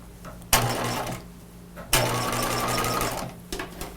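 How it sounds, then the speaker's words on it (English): A sewing machine stitches down a box pleat on a pair of pajamas, running in two steady bursts of close, loud motor whir with brief pauses and a few small clicks at the end. "So you're just going to stitch down the box pleat so it stays in place for the rest of construction."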